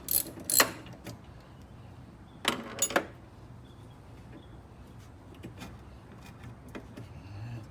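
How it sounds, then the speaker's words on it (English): A windshield wiper arm on a car is worked loose, with a few sharp metallic clicks and ratcheting taps at close range, separated by quiet pauses and faint handling noises. "I gotta loosen it a lot."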